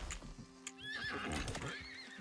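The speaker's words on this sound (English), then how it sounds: "Oh, there's that horse." A horse in the survival video game Icarus neighs loudly and clearly, its whinny rising and falling over clip-clopping hooves, with no talking.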